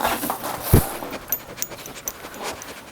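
A dog pants on the Appalachian Trail, quick breathy huffs close to the microphone with a brief louder thump partway through and soft outdoor rustle around it.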